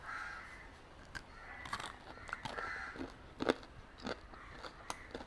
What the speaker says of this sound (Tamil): நல்ல முருண்டு இருக்குது.